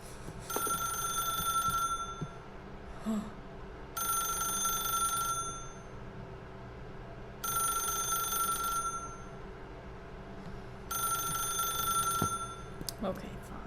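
A telephone rings in four long bursts of a steady, trilling bell tone, each separated by a pause of roughly two seconds, over a low constant background hum.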